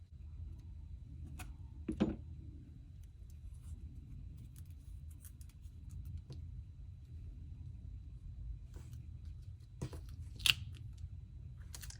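Scissors cutting paper for a Happy Planner creative journal: a few sparse, sharp snips spread across the stretch, close but light over a steady low background rumble.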